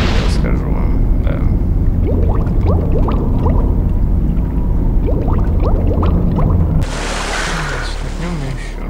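Water released in Serious Sam HD: The First Encounter rushes and pours as a loud, continuous roaring wash, with scattered game noises over it, then drops to a softer, steadier flow.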